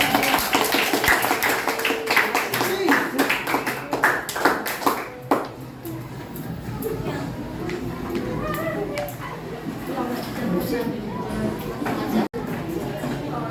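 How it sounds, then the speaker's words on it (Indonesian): Classroom students clapping, a burst of dense applause for several seconds that fades into quieter shuffling and background chatter. "kasih tepuk tangan buat kamu"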